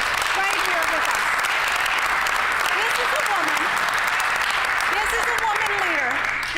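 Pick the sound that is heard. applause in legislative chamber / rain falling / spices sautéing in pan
applause in legislative chamber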